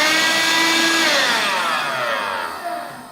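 A Bissell Pet Hair Eraser cordless hand vacuum, model 94V5A, runs with a loud, close, high-pitched motor whine that slowly drops in pitch and fades as it winds down.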